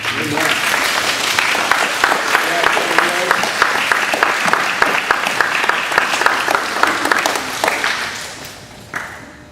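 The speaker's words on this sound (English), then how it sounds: "Give them a round of applause." An audience applauds at a seventh-grade school chapel service, with dense, steady clapping that carries on for several seconds before tapering off near the end.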